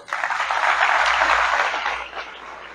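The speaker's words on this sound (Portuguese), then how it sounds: "Você pode aplaudir o Senhor?" A church congregation applauds in praise, a steady wash of many hands clapping at moderate volume that swells, holds, then thins toward the end, with no talk over it.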